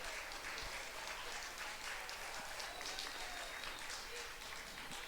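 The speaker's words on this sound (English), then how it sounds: "Big round of applause for our last competitor here." Steady crowd applause fills an outdoor track and field championship meet, a broad, continuous wash of clapping held at an even level from start to finish without any talk over it.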